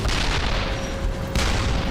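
WWII tank battle with cannon fire, a dense, continuous rumble of heavy booms and blasts at close range, loud throughout with no voices.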